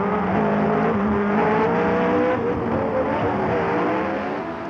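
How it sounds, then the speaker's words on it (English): A Renault Turbo Formula 1 race car roars past on a street circuit, a loud, high-pitched turbo engine whine rising and shifting pitch as it goes by, close and alone without talk. "Jean-Pierre Jabouille goes past in the Renault Turbo."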